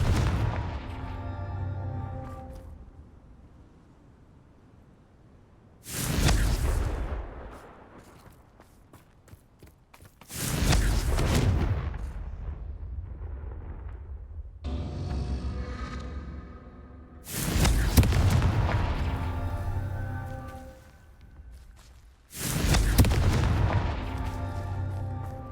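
Confringo blasting curse explosions in Hogwarts Legacy: five separate booming blasts with whooshing tails, spaced several seconds apart, alone.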